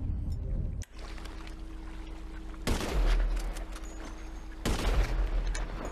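Gunfire crackles in GTA 5 played in VR, with two sharp bursts of shots breaking out of a low hum of street ambience, each one loud and close.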